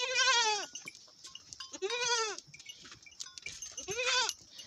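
Hill goats bleating in a farm pen, three loud wavering bleats spaced about two seconds apart and heard close up, with light rustling and faint clinks between calls.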